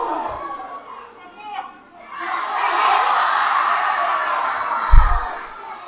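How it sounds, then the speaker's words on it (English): Wrestling crowd at an NJPW Tamashii event in Auckland, New Zealand, a dense roar of many voices rising into sustained chanting and cheering, with a brief thump near the end. "The crowd's asking for one more."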